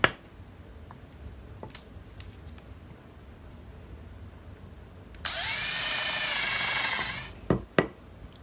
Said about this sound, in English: Now to drill the hole, I'm just going to use a 1/2 inch spade bit or a paddle bit to drill this